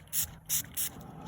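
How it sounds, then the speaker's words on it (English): Shine Armor odor eliminator is sprayed onto leather in three short, crisp hissing bursts from a trigger bottle, close and clear against a quiet room. "So what I'm going to do is get some of this and spray it on here."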